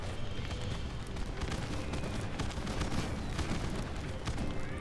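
Fireworks bursting continuously in the farming-life video game My Time at Sandrock, a dense, steady stream of crackling pops and booms at even loudness with no clear gaps.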